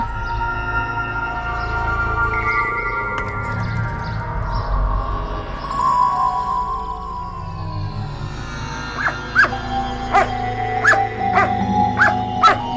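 A dog barks repeatedly in a quick irregular burst toward the end, after a stretch of muffled indoor background noise.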